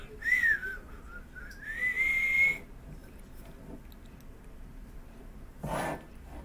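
A person whistles a short tune in two sustained phrases, the second rising and holding, then falls silent in a quiet room before a brief rustle.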